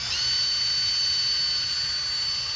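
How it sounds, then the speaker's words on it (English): A steady, loud high-pitched whine of a power drill spinning a wire brush during a front brake and rotor job on a 2007-2014 Chevy or GMC 1500 truck, with a constant hissing grind throughout and no talking. "wire brush, drill"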